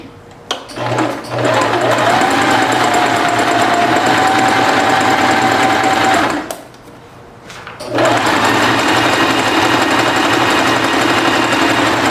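A sewing machine stitches a garment shoulder seam with a loud, close, continuous whir. It pauses for about a second and a half midway, then runs on again steadily with no talking.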